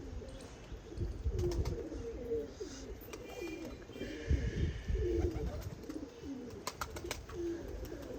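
Pigeons flying free outdoors around a water tank coo in repeated throaty rolls, several birds overlapping at close range, with occasional sharp clicks and rustles between the calls.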